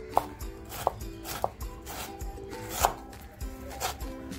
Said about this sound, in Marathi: टोमॅटो बघा तोही छान बारीक कापून घेते।